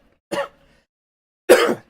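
Two short, sharp coughs from one person, close up and loud, separated by about a second of silence.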